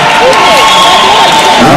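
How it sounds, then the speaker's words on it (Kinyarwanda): A packed football stadium crowd roars and cheers loudly and continuously, with raised voices and shouts blending into a dense, close wash of noise. "Amashyi menshi cyane."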